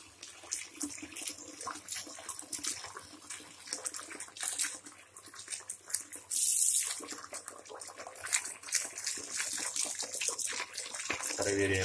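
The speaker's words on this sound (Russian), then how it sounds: "А сейчас дадим Стэну наполнить ванну и поплавать в ней." Running water pours and splashes continuously into a bathtub, with a brief louder gush midway and a voice talking over it.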